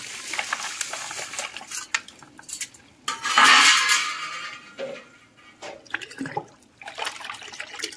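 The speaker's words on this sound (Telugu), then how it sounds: "ఈ మట్టి మొత్తం నేను ఇక్కడ వాటర్లో కలిపిస్తున్నా చూడండి" Water sloshes and swirls in a container as mud is stirred into it, with clinks and scrapes against the sides and a brief louder gush midway.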